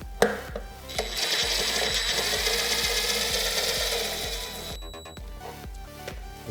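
A bolt on a bearing jig being turned by hand tool while replacing the drum bearing of a front-loading drum washing machine, giving a steady run of rapid ratcheting clicks up close, with a brief pause near the end.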